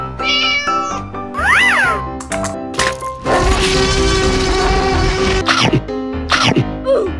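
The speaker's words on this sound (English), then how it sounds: "Cat." Several loud, close cat meows with rising and falling pitch, mixed with sharp cracking noises and a sneeze-like burst over a busy background.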